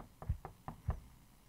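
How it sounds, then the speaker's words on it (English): A door is knocked on in the video game Incoherence: four distinct, evenly spaced hollow knocks in two pairs, fairly close and alone over a quiet background. "Who's knocking? Excuse me, hello?"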